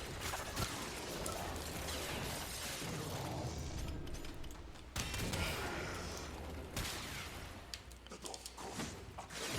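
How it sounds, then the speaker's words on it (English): Rapid chain explosions and gunfire in the Warframe video game, a dense continuous barrage of bursts, booms and crashes with several sharper blasts, loud and busy throughout. "get these chain explosions"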